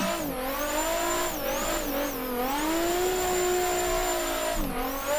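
Nissan S15 drift car in a racing game, its engine revving hard and steady in fifth gear with a sustained rising and falling whine, a brief dip and squeal near the end, close and loud with no talk.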